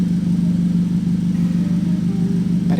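Straight-piped 2.4-litre engine of a 2013 Chevrolet Captiva idling nearby, a loud, steady low exhaust drone with a constant rumble and no talk over it.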